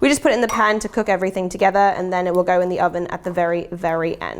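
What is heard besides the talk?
No everyday noise stands out behind the speech.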